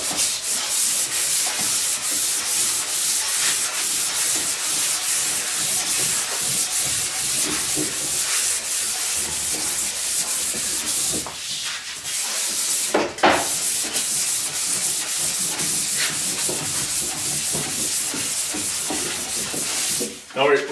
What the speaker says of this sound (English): I'm going to go ahead and start sanding this